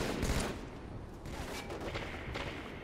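Dense gunfire from a Halo-style multiplayer match with bomb objective play, a steady stream of overlapping shots at moderate loudness through the whole stretch, with no clear voice on top.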